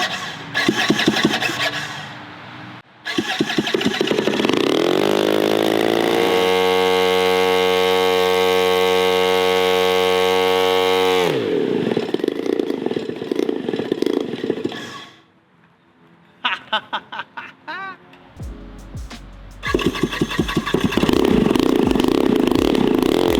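A cheap AliExpress paramotor's small two-stroke engine runs rough and needs carburetor tuning: close, buzzing bursts, a long steady high rev, sputtering near-stalls and restarts, with no speech.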